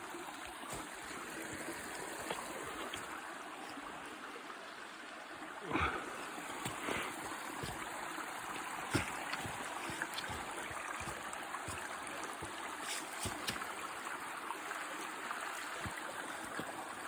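A river flows steadily through a rocky glen, a continuous broad wash of running water close by, with a couple of faint knocks partway through and no talking.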